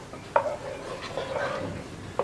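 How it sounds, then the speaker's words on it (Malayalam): A spoon stirs poovan banana pradhaman payasam after the fried ingredients go in, making soft, close scraping with a few sharp clinks against the pot. "ബാക്കിയെല്ലാം ചേർത്ത് നന്നായിട്ടൊന്ന് ഇളക്കി മിക്സ് ചെയ്തെടുക്കുക"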